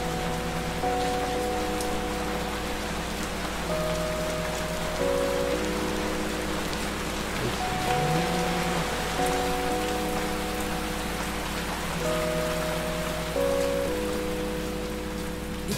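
Steady rain falling in Manila, a dense continuous patter heard close and even throughout, with soft tonal music playing faintly underneath and no speech.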